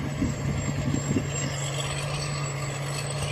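An engine runs on a Charoen Kan Chang half-size oat harvester, at least ten years old, in Maha Sarakham province, Thailand, as a steady, close, low droning hum with a faint high whine and a brief rougher patch early on.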